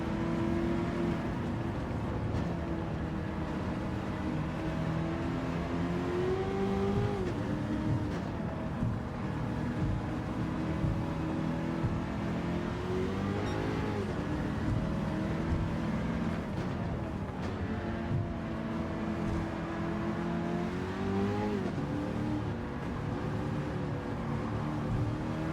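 A Toyota Hiace van with a swapped engine, racing in Gran Turismo 7, holds a steady loud engine drone throughout, its pitch rising and falling with gear changes and wavering as the wheels spin.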